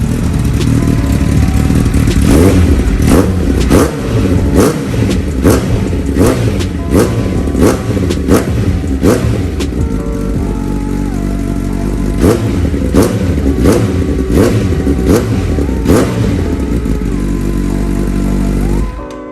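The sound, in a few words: Honda CBR 1000cc motorcycle engine revving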